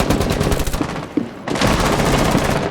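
Loud, close rapid gunfire on a Rainbow Six team deathmatch map, with two dense automatic bursts split by a brief lull and a few single shots.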